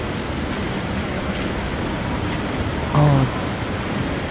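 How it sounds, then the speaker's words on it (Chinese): A waterfall in the survival game The Long Dark gives a steady, even rushing hiss throughout, with a brief vocal interjection rising over it near the end. "我们现在来到这个瀑布"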